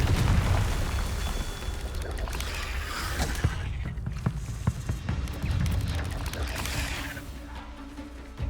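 Confringo fire spell blasts in the Hogwarts Legacy video game, heard as loud rumbling bursts and booms layered over busy combat noise and music, repeated across the stretch.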